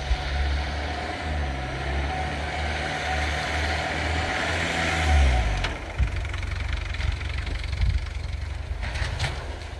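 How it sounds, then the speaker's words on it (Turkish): A tractor's engine rumbles steadily as it slides on a snow-covered road toward a cliff edge; the drone shifts and drops midway, then gives way to rougher, scraping mechanical noise, with no voices. "karla kaplı yolda ilerleyen traktörün sürücüsünün kontrolden çıkması, uçuruma doğru ilerlemesi"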